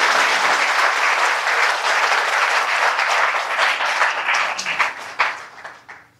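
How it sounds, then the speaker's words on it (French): An audience at a political party candidate presentation gives a sustained, loud ovation, dense applause filling the room before thinning into scattered final claps. "J'aimerais qu'on fasse une belle ovation."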